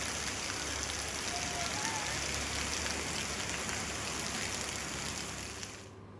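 Heavy rain pours steadily over Bharuch city streets flooded with standing water, a dense, even hiss of drops hitting wet surfaces throughout, close and continuous with no talk.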